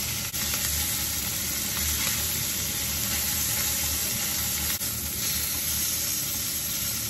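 Hilsa fish and eggplant pieces being lightly fried in oil in a pan produce a steady, close, continuous sizzle with a broad hiss that holds throughout, with no talking.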